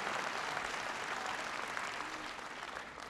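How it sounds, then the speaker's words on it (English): A political rally audience applauds a Wisconsin National Guard singer after the national anthem, a steady wash of crowd clapping heard at a distance and holding evenly throughout. "Give them a big round of applause."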